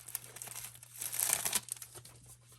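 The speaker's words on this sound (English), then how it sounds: "And let me open that up so you can see what's in here." Crinkling and tearing of plastic wrap as a note card set package is unwrapped and opened, a steady close crackle that swells in the middle and then eases off.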